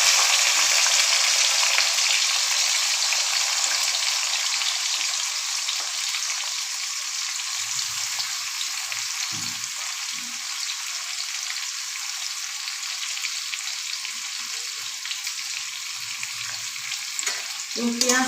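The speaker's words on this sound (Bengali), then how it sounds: "পেঁয়াজটা আমি ভালো করে ভেজে নেব" Onions sizzle and fry in hot oil in a pan for puffed rice, a steady crackling hiss that eases slightly over time, with occasional soft stirring scrapes and no talking.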